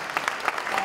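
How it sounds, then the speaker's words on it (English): A brief burst of audience applause at an evening speaker event, a steady patter of many hands clapping at moderate volume. "So big round of applause for them."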